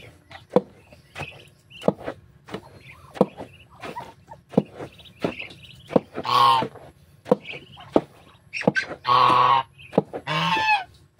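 Loud honking waterfowl calls in bursts, with sharp clicks and knocks scattered throughout and a low background hum.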